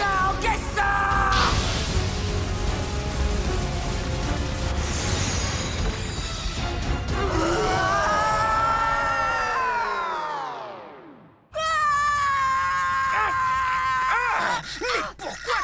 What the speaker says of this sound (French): Mais pourquoi tu hurles comme ça?